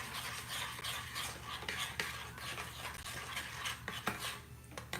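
A spoon stirs powdered sugar into frosting in a bowl, giving a soft, steady scraping and swishing with occasional light clinks against the bowl, heard close and fairly quiet.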